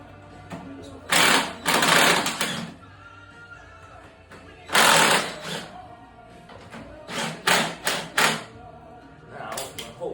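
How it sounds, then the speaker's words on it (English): An impact wrench working loose a bolt on a lawnmower, firing in several loud rattling bursts of a second or two each, separated by quieter pauses with shorter buzzy hits near the end. "do something I probably shouldn't do, which is an impact wrench very carefully"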